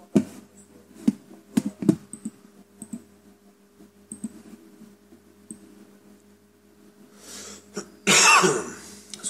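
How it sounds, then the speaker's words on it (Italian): A man coughs and clears his throat repeatedly during an Italian podcast about Sibelius notation software, several short, close bursts spread across the stretch, ending in a loud harsh cough. "Scusate la tosse ancora una volta."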